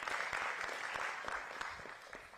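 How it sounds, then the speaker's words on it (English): Audience applause at a campus political rally, a dense steady wash of many hands clapping that fills the whole stretch and fades slightly toward the end, with no voices over it. "So give yourselves a round of applause."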